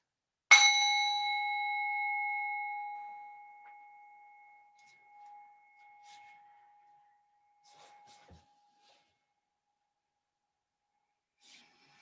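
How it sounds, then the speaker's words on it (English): A single bell, likely a meditation or singing bowl-style chime at a yoga session, is struck once and rings with a clear sustained tone that slowly fades over several seconds, followed by faint rustling. "The sound of the bell is just like a wake-up call to let go of something."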